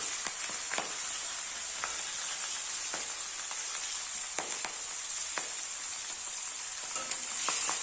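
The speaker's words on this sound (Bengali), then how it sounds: "মাছটা ভেজে নিয়েছি লাল করে" Rohu fish pieces frying in hot oil in a pan, a steady close hiss of sizzling with scattered sharp crackles and pops throughout, no voices.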